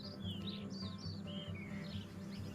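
Birds in Margalla Hills National Park sing in spring, with many short whistled chirps and trills at a moderate distance over a constant low background murmur.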